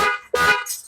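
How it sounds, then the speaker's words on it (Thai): A genuine factory-replacement car horn on a Toyota Fortuner sounds in two short bursts, loud and close, with a brief break between them. "ลองกดเสียงแตร"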